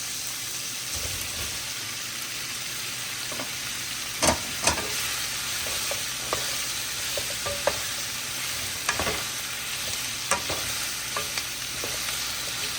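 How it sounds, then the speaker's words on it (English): Sausage with chopped vegetables and black pepper frying in a pan, an even, crackling sizzle throughout, punctuated by sporadic utensil scrapes and taps, close by with no voices. "we're just trying to cook up the chopped veggies a little bit"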